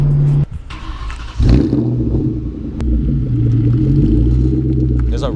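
Ford Mustang Cobra with a suspected blown muffler, engine catching and settling into a deep, uneven rattling rumble that fluctuates in loudness, heard up close with no talk.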